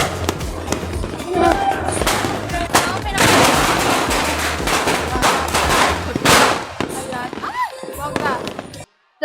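New Year fireworks and firecrackers go off in a dense barrage of sharp cracks and booms, with rapid crackling bursts and heavy thumps overlapping. Excited voices call out through the noise.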